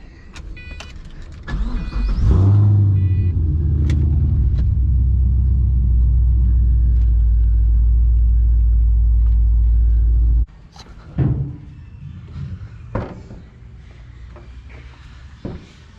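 A 2006 Pontiac GTO starts with a short whirr, then settles into a loud, deep, steady idle rumble for about eight seconds before it shuts off abruptly, followed by faint clicks and shuffling.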